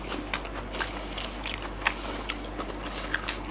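Someone eating a Thai dish with raw green banana, close soft chewing and crunchy bites with a few sharp clicks over a steady low hum.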